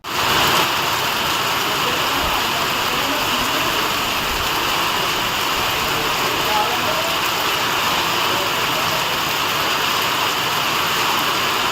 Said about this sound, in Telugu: ఈదురుగాలులతో కూడిన భారీ వర్షం కురిశాయి